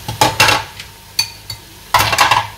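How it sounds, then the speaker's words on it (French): Canned peeled tomatoes tipped into a cooking pot: clanking metal-on-pot knocks and scrapes in uneven bursts with soft wet plops and a faint sizzle, close and fairly loud, no voices. "Je mets toute ma tomate pelée."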